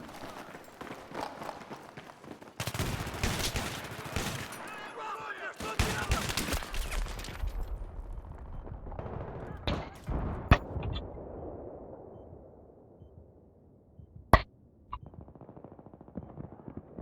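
Gunfire in the video game Battlefield 3 during a team deathmatch: bursts of rapid automatic fire and several sharp single shots over about seventeen seconds, with quieter stretches of rumble and footsteps between them.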